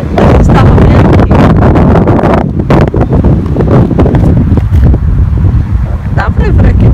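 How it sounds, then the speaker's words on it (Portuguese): Strong gusty wind buffets the microphone in loud, continuous roaring bursts, with voices partly audible beneath it. "tá ventando muito"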